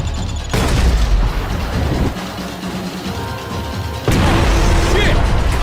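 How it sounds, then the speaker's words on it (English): Gunfire in a Max Payne 3 firefight with bullets whizzing past: loud sustained bursts and booming shots in two dense waves separated by a quieter stretch, close and continuous. "I can't concentrate with bullets whizzing past my head."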